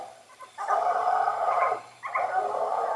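Two coonhounds bay on a coon trail in heavy rain, their long, drawn-out howls coming in two sustained bursts at moderate distance, with no talking over them.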